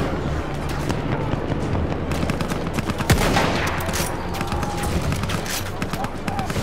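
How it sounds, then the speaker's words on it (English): Tank cannon fire and dense gunfire in a Battlefield 1 battle, a loud boom standing out around the middle over continuous rattling shots and explosions, with players talking over the chaos. "Tank's trying to shoot at us."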